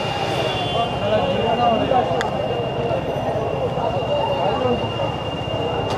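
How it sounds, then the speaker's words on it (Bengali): A train rolls past a level crossing with barriers down, a steady rumble of wagons and wheels with a faint squeal, while voices talk nearby. "ট্রেন আইতেছে, ট্রেন"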